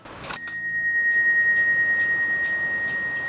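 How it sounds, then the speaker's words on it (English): A hammer strikes a clock's small cup bell once, sharply, followed by a clear, sustained ring that slowly fades, close and loud. "let's see what we've got in the way of resonance on the cup bell when we strike the hammer."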